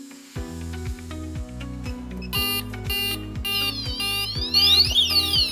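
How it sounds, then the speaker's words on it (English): Dahua addressable fire alarm system sirens in alarm state: rapid repeating electronic tones stacking up as more units join, piercing sweeping whoops building louder near the end. "after push the button, all the siren in the system will change to the alarm state"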